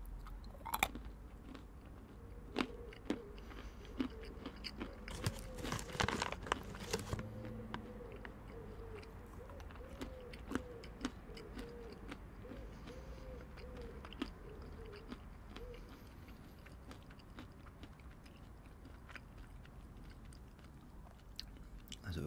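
Nuts from Dubai being chewed up close for ASMR, steady crunching and soft mouth sounds going on and on, with a louder rustle partway through and faint background hum.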